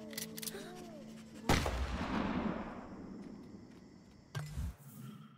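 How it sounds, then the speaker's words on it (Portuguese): A gunshot cracks in the Endling: Extinction is Forever video game, one loud sharp blast that rolls off into a long, fading echo, followed by a second, thumping impact. "Eu escutei o tiro."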